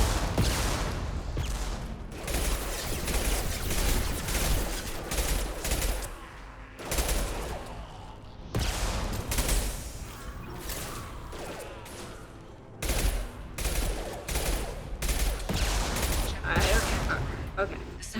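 Gunfire rattles in a sci-fi shooter video game, with repeated bursts of loud, close shots separated by brief pauses, a voice talking in between.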